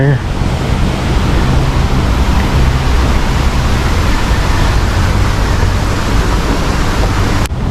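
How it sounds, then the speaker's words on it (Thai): A forest-park waterfall in a city forest learning center, heard as a steady, loud broadband rush of falling water that runs unbroken for the whole stretch before cutting off abruptly near the end. "ฝั่งขวานี้มีน้ำตกด้วยนะ"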